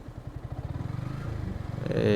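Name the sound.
motorcycle being ridden to check for problems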